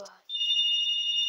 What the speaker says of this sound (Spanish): y el teléfono suena cuando yo voy a grabar.